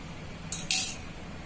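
A spoon clinks against a bowl while stirring milk with a starter to set homemade curd: two brief, bright metallic clinks in quick succession, close and fairly quiet, then still room tone.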